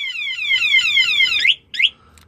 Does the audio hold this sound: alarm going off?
yes